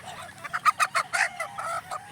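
Chickens on a game farm clucking in a quick run of short, close calls, moderately loud, with a low hum underneath.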